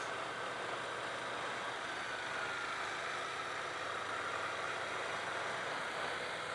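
A 2018 Ducati Scrambler Cafe Racer 800cc motorcycle engine on a demo ride, a constant dense roar blended with rushing wind noise, steady and unbroken, no talk.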